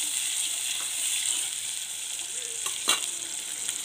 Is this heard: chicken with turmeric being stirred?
yes